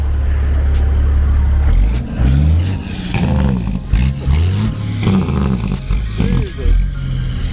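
A custom show truck engine fitted with a marine cam idles loudly with a lumpy, choppy lope, blipping through several quick revs, with people talking nearby.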